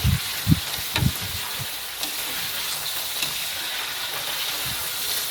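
Hot oil sizzles and hisses steadily as pork belly fries, with a few soft stirring knocks in a pan at the start.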